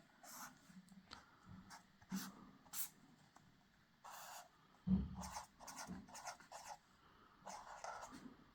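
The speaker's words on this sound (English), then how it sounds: "You'll have to forgive my terrible drawing again though." Pen or pencil strokes on paper, close and soft, arriving in short scratchy bursts with brief pauses, plus an occasional light thump. No one speaks.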